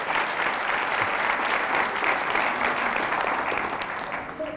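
Loud, steady applause from a church congregation, dense clapping that holds throughout and eases slightly near the end.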